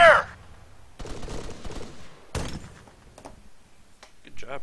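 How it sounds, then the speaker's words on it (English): Sharp bursts of rifle gunfire in the military shooter game Arma 3, Escape Stratis mode, a few loud cracking volleys separated by quieter gaps, with some voices in the background. "Enemy fire!"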